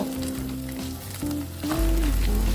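Carrot and thick seasoning sauce sizzle in a wok for fried rice, a continuous close crackle that swells louder toward the end, with no voices.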